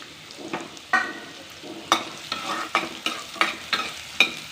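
Carrots stir-fried with cumin in a pan, a rhythmic series of scraping stirs over a soft steady sizzle, close and moderately loud with no talking.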